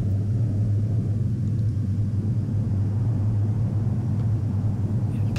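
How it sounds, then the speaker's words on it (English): Boeing 737 in a flight simulator rolling out after landing on Salt Lake City runway 16L with spoilers and thrust reversers deployed, a steady loud low rumble of engine roar that holds even throughout. "So, spoilers and reversers, all that kind of good stuff going on. Slowing the aircraft down."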